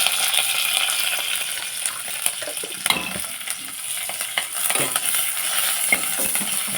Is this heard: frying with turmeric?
yes